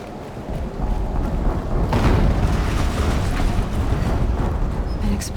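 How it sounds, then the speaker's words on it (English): A deep explosion rumbles in the video game Horizon Zero Dawn, a loud sustained boom that swells after the first second and stays heavy and rolling to the end. "An explosion."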